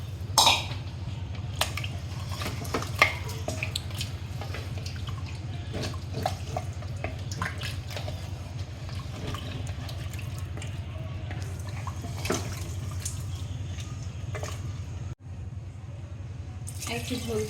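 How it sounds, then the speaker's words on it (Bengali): Broth is poured into beef curry cooking with jackfruit seeds and green chilies, soft dripping and splashing over a constant low kitchen hum, with occasional brief clinks and a voice in the background. "এখন আমি এটার মধ্যে দিয়ে দেবো ঝোল"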